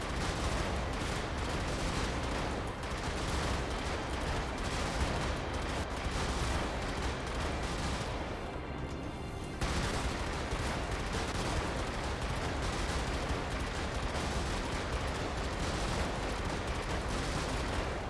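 Sustained rapid gunfire from a mech in the top-down action game Brigador, a dense continuous barrage with bursts running almost unbroken throughout, loud and steady with a brief dip near the middle.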